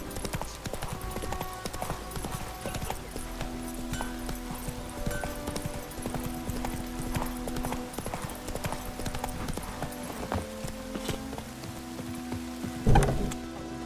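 Horse hooves galloping in The Witcher 3 video game, a steady clip-clop rhythm running throughout over a rain-like ambient wash, with one louder thump near the end.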